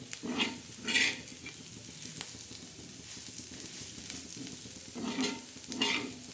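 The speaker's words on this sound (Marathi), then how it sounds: "सुकट असं ला मस्त कडक भाजायची खरपूस असं लागतं" Dried shrimp (sukat) being dry-roasted until crisp in a pan, heard as a steady low sizzle with repeated scraping stirs of a spatula, louder bursts near the start and end, no talking.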